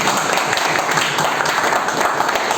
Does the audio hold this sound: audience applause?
yes